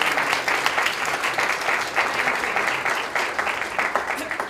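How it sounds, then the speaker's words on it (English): An audience at a courthouse Law Day ceremony claps continuously, a moderate, even patter of many hands with some faint voices mixed underneath. "please give them a round of applause"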